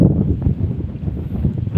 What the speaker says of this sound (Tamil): இன்றைக்கி பார்த்திங்கன்னா காற்று இன்றைக்கி சரியான காற்று அடிக்குது.